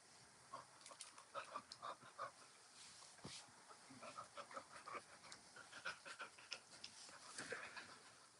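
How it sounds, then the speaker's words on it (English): A dog pants rapidly and close by in a quiet room, with soft whimpers and snuffles mixed into the quick rhythmic breathing. "My dog decided to join me for the chat."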